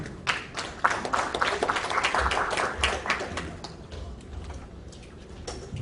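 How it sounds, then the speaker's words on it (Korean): Audience applause at a National Assembly forum on carbon neutrality, steady dense clapping from a room of people that thins out toward the end, moderate in level. "저희 축사 말씀 박수로 청해 듣도록 하겠습니다."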